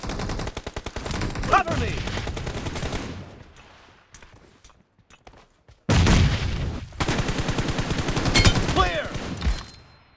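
Rapid bursts of AKM rifle fire without a scope in a video game, loud and close, stopping for a quieter gap with scattered sounds, then resuming in long sustained volleys, with brief voiced game callouts over the shooting.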